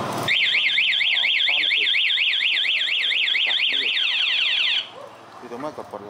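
A Honda CBR motorcycle's anti-theft alarm wails loudly in a fast, rising-and-falling siren warble for nearly five seconds, then cuts off, leaving a few faint chirps and light background noise.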